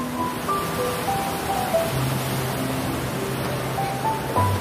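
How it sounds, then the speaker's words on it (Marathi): River water flowing beneath a bridge near Kolhapur makes a steady, broad rushing wash that stays even throughout, with faint tonal hums mixed in. "ब्रिज खालून हे वाहतं पाणी."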